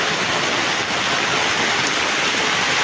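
Rushing floodwater pours down a mountain river, a loud, dense, unbroken roar of churning water close by, with no voices over it.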